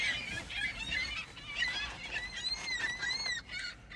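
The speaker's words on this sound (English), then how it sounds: "It's just me and some seagulls." Loud seagulls calling close by, a cluster of overlapping squawks and wavering cries that rise and fall in quick succession against outdoor background noise.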